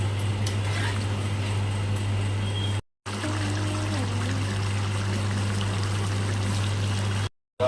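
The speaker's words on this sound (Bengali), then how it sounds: "এখন দিয়ে দেবো জল।" Water is poured into a cooking pot, a steady trickling pour running almost continuously with two short breaks, over a constant low hum.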